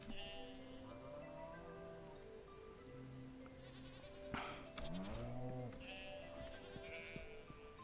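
Sheep bleat repeatedly in the farming video game Stardew Valley, several wavering cries in sequence over soft game background sounds, no talk.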